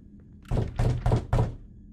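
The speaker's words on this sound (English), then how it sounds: "The knocking sound comes from this front door." A single burst of four heavy knocks on a front door in a Slender Man video game, evenly spaced, hollow and loud against a quiet background.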